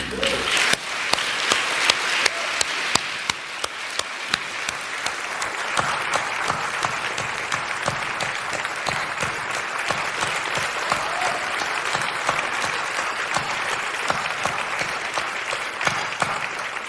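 A festival audience at the opening ceremony of the 25th Festival of Slovenian Film applauds Croatian director Rajko Grlič, a dense, sustained wash of clapping from a large crowd, even and loud from start to finish.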